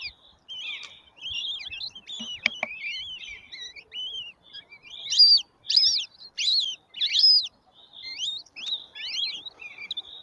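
High, shrill goshawk chick calls come in rapid squawking bursts from the nest, some louder and more urgent, close by with quiet gaps between them.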